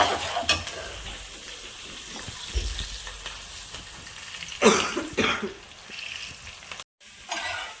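Onions fry in a pan with a soft, uneven sizzle and stirring scrapes, a cough and throat clearing cutting in partway, and a brief dropout near the end.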